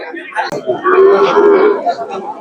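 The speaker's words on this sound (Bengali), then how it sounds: "এই যে এখানে একদম ছোট ছোট গরু রয়েছে" Cattle low and moo at the Luhai cattle market in Gazipur, where small young cows and heifers are on sale; a sustained, fairly loud moo rises over a crowd's background chatter.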